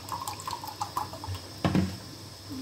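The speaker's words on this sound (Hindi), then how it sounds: "थोड़ा सा इसमें पानी डालेंगे" Water poured into a grinder jar of coconut powder and almonds while making a paste for chicken shahi korma, heard as light splashing and trickling with a louder gush toward the end, close and fairly quiet.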